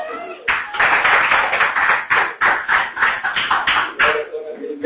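A church congregation claps in unison during a service, a loud run of steady, rhythmic hand claps close by that continues almost unbroken to the end.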